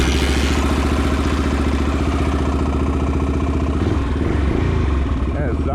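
A Yamaha XT350 kickstart motorcycle running steadily after firing up, a loud close single-cylinder thump with a constant rhythmic pulse, the throttle briefly shifting near the end.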